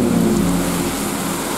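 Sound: thunder rumbling during heavy rain

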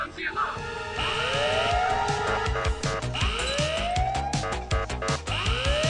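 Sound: alarm sounding in Ice Scream video game

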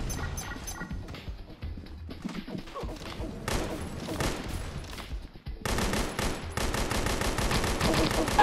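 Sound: gunfire aimed at enemies' heads in a video game

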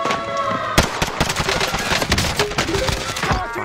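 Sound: gunfire in the video game Call of Duty: Warzone

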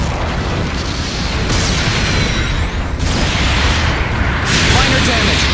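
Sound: bomb explosion destroying base, from video game Gundam Battle Operation 2

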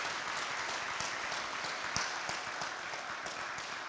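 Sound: applause

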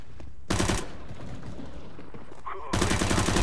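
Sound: gunfire from teammates in video game CS:GO

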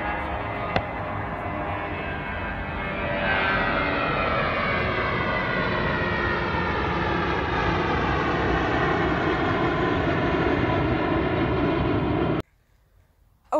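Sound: airplane flight in a video game

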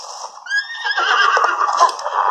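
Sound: horse neighing in Zelda Breath of the Wild video game

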